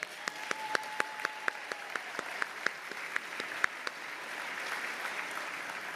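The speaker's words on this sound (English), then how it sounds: "Please give them a round of applause." Audience at an environmental excellence celebration applauds legislators and county commissioners. It begins as a few distinct, evenly spaced claps with a faint tone behind them, then swells into fuller, moderate group clapping.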